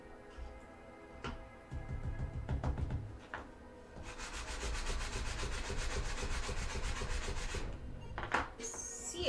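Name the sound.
cleaning sandpaper with a file cleaner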